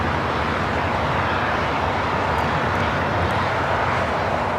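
A Boeing 787-9 Dreamliner takes off at LAX, a steady broad roar of jet engines filling the air without pause, loud and constant from a distance.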